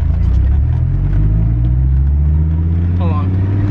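A 2002 Dodge Viper SRT-10 engine drones loud and steady in long gears, a deep continuous rumble holding close throughout, with a brief higher whine near the end.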